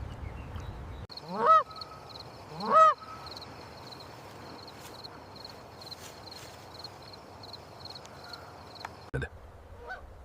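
A Canada goose mother guarding her newly hatched goslings gives two loud, separate honks early on, then a quiet, insect-filled riverbank ambience follows.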